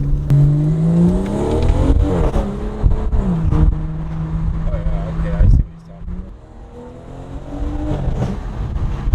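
A car with a stock BMW B58 engine in sports mode revs hard, its pitch climbing as it accelerates, then drops off briefly before building again, loud and close.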